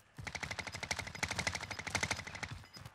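Rapid automatic gunfire in Call of Duty: Modern Warfare rattles off in dense, fast bursts for several seconds, loud and continuous with slight pauses between strings of shots.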